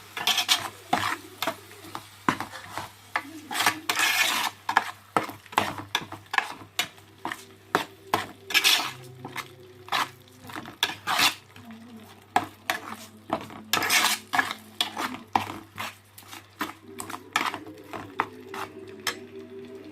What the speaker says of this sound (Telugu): స్లో ఫ్లేమ్లో బాగా వేయించుకోవాలి.